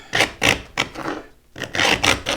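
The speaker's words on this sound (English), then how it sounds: "they have scrapers like this that have an edge that you can sharpen on them, and they will go down into" A sharpened paint scraper rasping finish off an antique wooden table in several close, loud strokes, one after another, with a short pause midway.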